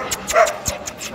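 A guard dog at a Friday dog market gives a few brief, close whimpers and yips in quick succession, with no speech.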